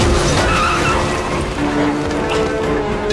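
A car screeches loudly as it skids on a city street in an action film, a continuous harsh tire squeal with engine noise filling the whole moment.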